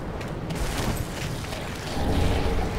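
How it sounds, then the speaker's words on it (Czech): Enemy gunfire aimed at the player in Dark Souls 3 Ashes of Ariandel, heard as a dense, continuous run of booming shots and impacts that swells louder near the end, with no talking. "už si mě všimnul a už po mě střílí"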